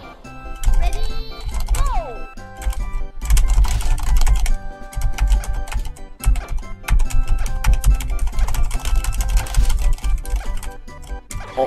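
Rapid computer keyboard typing while playing an action puzzle game called Find the Treasure, a busy stream of clicky key presses mixed with game sound effects and beeps, with a voice talking over it.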